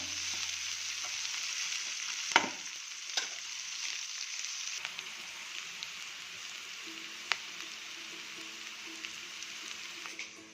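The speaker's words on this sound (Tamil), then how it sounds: "வெங்காயம் வந்து வதங்கிடுச்சு." Chopped onions sautéing in a pan for a cauliflower and peas kurma, a soft continuous sizzle with occasional taps and scrapes of a spoon, close and without talk.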